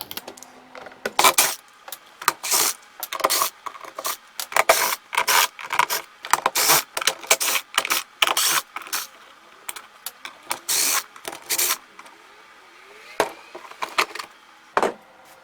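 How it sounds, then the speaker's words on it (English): Screws are taken out of the cover of a Sun Joe AJ801E electric dethatcher: close, irregular scraping, rattling and clinking bursts that come in clusters and then thin out toward the end, with no talking. "Let's go ahead and take those out and get this cover off."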